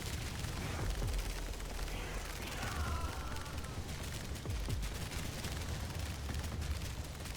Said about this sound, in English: the explosion on every projectile from the basic hammer